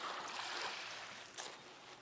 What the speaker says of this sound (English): The sound of the Pacific Ocean in this particular cove, that is.